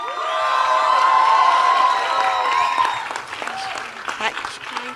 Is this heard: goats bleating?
no